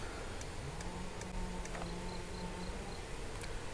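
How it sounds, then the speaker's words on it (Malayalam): Wild honeybees, worker bees crowded on their hive, give off a faint droning buzz that wavers in pitch, with scattered light ticks over a hissy outdoor background. "ഇതെല്ലാം വേലക്കാരി ഈച്ചകളാണ്"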